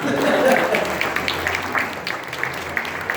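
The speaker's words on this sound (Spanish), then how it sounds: "Fuerte aplauso a Irma." An audience applauds a woman named Irma, with steady, dense clapping running throughout and voices mixed in underneath.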